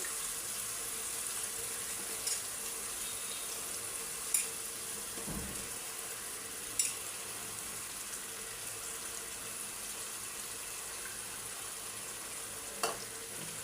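Hard vegetables such as long beans, carrot and broccoli fry in a pan for a Chinese vegetable dish, giving a steady soft sizzle throughout with a few faint clicks and one low thump, no voices.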